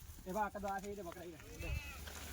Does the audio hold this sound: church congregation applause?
no